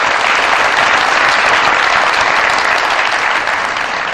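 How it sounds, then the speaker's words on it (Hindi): A studio audience at a comedy talk show claps steadily in a loud, dense burst of applause that lasts throughout and fades slightly at the end. "बहुत सारी तालियां शौकत यूसुफ के लिए।"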